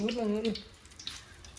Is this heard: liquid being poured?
yes